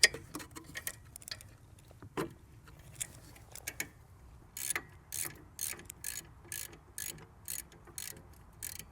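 A ratchet tightening the 14mm rear brake caliper bolts on a 2002 Lexus ES300, quick repeated clicking strokes in bursts, growing more regular toward the end, close and fairly quiet.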